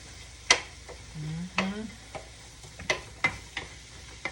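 Onions dropped into a hot pan, a soft sizzle with a few sharp clacks and scrapes of stirring, close and fairly quiet.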